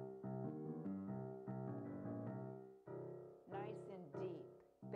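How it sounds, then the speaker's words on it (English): Deep piano notes in the bass clef range are played alone as a short phrase of sustained chords, followed by a few brighter struck notes. "the bass clef in the lower part of the piano down here, where the strings are bigger"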